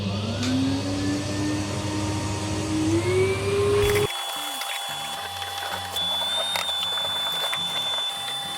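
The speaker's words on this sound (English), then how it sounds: "So what we will do, get the hoover." A hoover cleaning the gap under lifted floorboards runs steadily with a rising whine for about four seconds, then cuts off, leaving a brief, quieter mechanical clatter.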